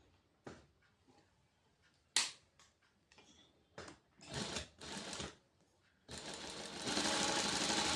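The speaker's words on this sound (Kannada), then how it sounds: "ಈ ಎಡ್ಜಲ್ಲಿ ಏನು ಸ್ಟಿಚ್ ಬರುತ್ತೆ ಅದನ್ನ ಸ್ಟಿಚ್ ಹಾಕ್ಕೊತಾ ಇದ್ದೀನಿ ನೋಡಿ ಗೈಸ್" A sewing machine stitches along a fabric edge in short rapid bursts, separated by quiet pauses and small clicks, then runs as a longer continuous whir near the end. Close and clear, with no talking.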